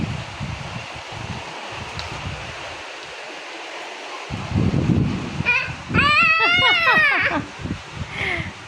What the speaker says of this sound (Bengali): প্রচুর বৃষ্টি হচ্ছে, বৃষ্টি ঝড়।